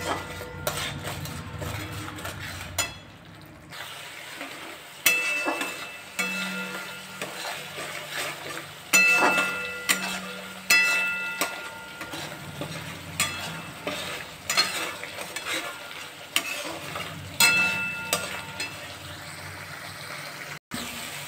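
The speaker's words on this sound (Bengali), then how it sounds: "মশলাটা ভালোভাবে কষে নিতে হবে।" A spice paste with Kashmiri chili fries in a pan for a Bengali fish curry, hissing and crackling under repeated spatula scrapes and metallic clinks that come in an uneven rhythm, close and moderately loud throughout.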